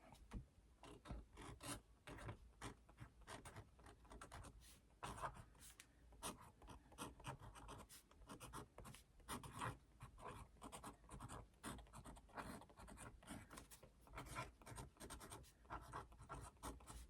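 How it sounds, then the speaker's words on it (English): Pen on paper during a sketchy drawing session with an 05 fine-liner, a continuous dense scratching of quick strokes and hatching, close and steady throughout. "First, we're going to write."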